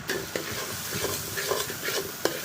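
Vegetables cook in a pan, a busy sizzling crackle with a spatula stirring and scraping at irregular intervals, close and fairly loud with no talking.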